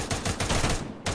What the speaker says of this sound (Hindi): शॉट